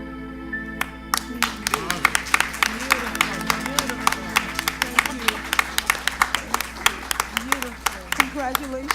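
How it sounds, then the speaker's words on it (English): Audience applause at an academic book discussion event, with sharp individual claps ringing out steadily throughout and voices speaking over them. "Let's give her another round of applause, both of them."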